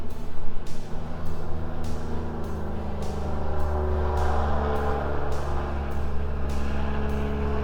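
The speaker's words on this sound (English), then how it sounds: "Jake brake." Heavy truck using its jake brake roadside, a loud, sustained engine-braking rumble with pulsing rhythm and rising engine tones as it passes close by.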